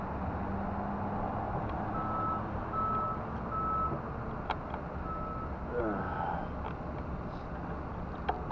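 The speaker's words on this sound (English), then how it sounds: "I've got a bus beside me now" A bus right beside the listener sounds its reversing alarm, evenly spaced high beeps repeating over a low idling rumble and road noise, fairly close and clear.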